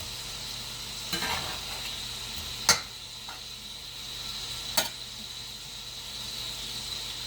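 Bacon crackles in a frying pan at a home breakfast stove, a steady broadband sizzle with a few sharp pops and spatters standing out over the constant hiss.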